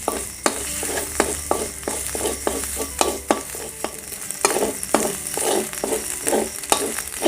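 Thai curry paste stir-fried in a pan for a spicy jungle-style fish ball curry made with Spanish mackerel fish balls: steady sizzling with repeated, rhythmic scraping strokes of a utensil stirring, close and fairly loud, with no talking.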